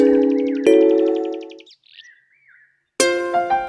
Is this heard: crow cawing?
yes